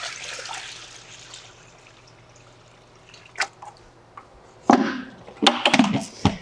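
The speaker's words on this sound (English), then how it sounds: "And if you need to put water in," Water runs into a CNC plasma cutting table with a soft rushing hiss that fades, followed by a few sharp splashes and knocks, close by and with no talking.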